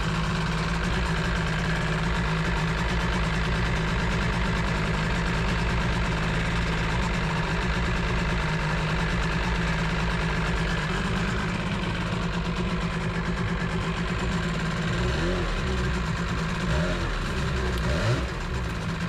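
A Sea-Doo jet ski engine idles steadily during an idle drop test, with a loud, close, continuous mechanical drone and low rumble that holds even throughout.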